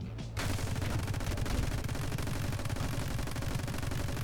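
Turrets in the My Friend Pedro action game open up with sustained rapid gunfire that starts abruptly after a brief quiet moment and continues as a steady, dense rattle.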